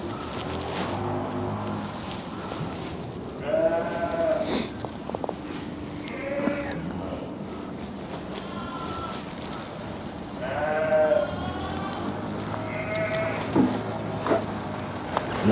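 Lambs and a ewe bleating in a lambing shed, several wavering, nasal calls a few seconds apart over a low background hum, some close and some farther off.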